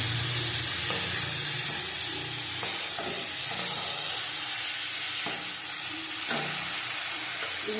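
A tomato curry sizzles and hisses steadily in a pan of hot oil, with a broad frying crackle and occasional stirring knocks, close and moderately quiet, no talking.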